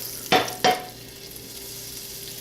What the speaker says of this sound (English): So knob of butter, let it melt. Spread it around the pan.